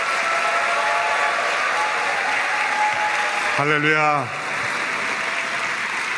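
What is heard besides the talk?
audience applause welcoming the pastor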